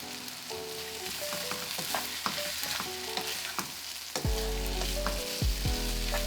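Beef cooking in a pan with smoky rub and tomato sauce for jollof rice, a bubbling sizzle with repeated scraping stirs and clinks of a utensil, close and quiet, no speech.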